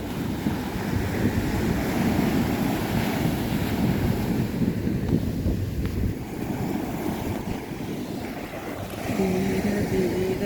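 Rough sea surf crashing on a rocky beach, a steady roar of breaking waves mixed with heavy wind buffeting the microphone, swelling again near the end.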